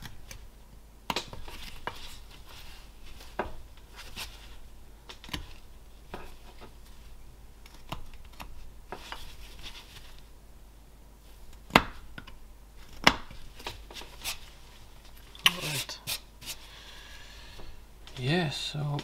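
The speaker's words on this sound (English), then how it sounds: "Cut the corner." Carving knife slicing into wood while shaping a Viking figurine, giving a steady series of short, sharp scraping cuts close by, with a quick flurry of denser scraping near the end.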